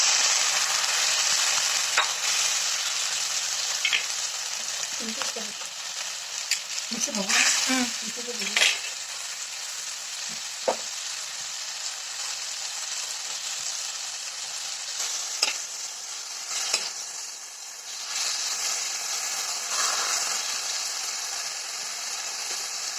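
Tender bottle gourd leaves simmering and sizzling in a pan with a little added water, a steady hiss and bubbling throughout with occasional scraping stirs of a spatula, close and continuous with no talking.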